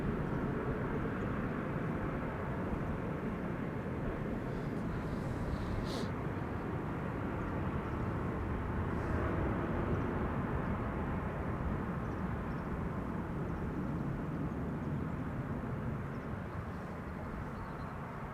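Qatar Airways airliner rolling at Amsterdam Schiphol Airport, heard as a sustained broadband jet roar and rumble that stays loud and steady, with a faint voice briefly underneath.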